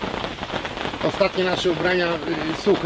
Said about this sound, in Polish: tak jak widzicie, za nami ściana deszczu.